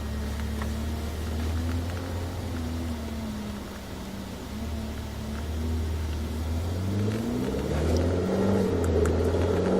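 A Ferrari 488 GTB pulls away with a low engine drone whose pitch bends and climbs gently, settling and then rising again as the car gets moving, with steady cabin noise underneath.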